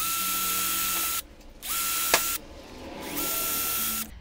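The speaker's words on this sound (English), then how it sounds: "We're gonna drill our pilot holes now just so we don't split the wood" A power drill whirs in three short bursts, drilling pilot holes in wood, with brief pauses between, close and steady, with a faint click in one gap.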